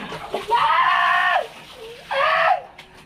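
During a bath, water is poured over the body in a couple of splashing bursts, each followed by a loud shriek at the cold, close and with room echo.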